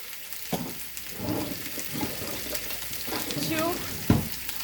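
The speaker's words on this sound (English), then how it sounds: "while I'm letting this sear" Chicken searing in a pan with a soft, continuous sizzle close by, broken by a few clinks and clatters of utensils.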